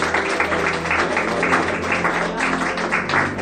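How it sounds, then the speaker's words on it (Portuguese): A church congregation claps along in praise, a steady dense patter of many hands filling the room at moderate level, with faint voices mixed underneath. "Louve ao Senhor com as palmas"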